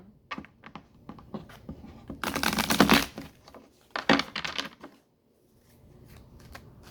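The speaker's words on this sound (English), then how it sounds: "I'm having a hard time shuffling." Tarot cards are shuffled in quick riffling bursts with scattered taps between them, close and moderately loud, ending in near silence.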